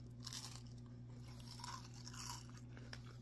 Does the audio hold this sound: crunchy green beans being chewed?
yes